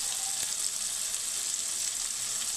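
Tomatoes sizzle and fry steadily in a pan while being mashed, a continuous bright crackle held at an even level with faint scraping underneath.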